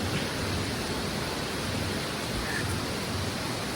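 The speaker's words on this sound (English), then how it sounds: "it rained hard." Heavy rain falls in Puerto Viejo, Costa Rica as a steady, dense hiss that fills the whole stretch without pause or talk.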